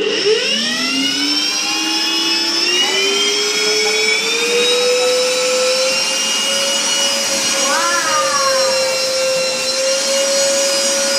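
A vacuum cleaner runs steadily and loudly throughout, its whine rising in pitch as the motor spins up, with people talking over it.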